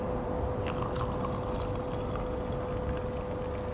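Hot coffee pours steadily into an Irish coffee glass, a continuous close liquid stream with a faint steady tone, uninterrupted and without voices.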